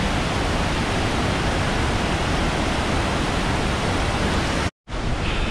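Broadband roar of the waterfalls at Iguazu Falls, Argentina, heard close and loud from a walkway trail, a steady continuous rush that cuts out briefly near the end before resuming.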